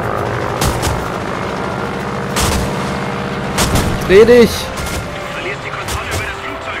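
Gunfire strikes a warplane in World of Warplanes, a series of sharp impact cracks over a droning aircraft engine, with someone talking briefly across the noise.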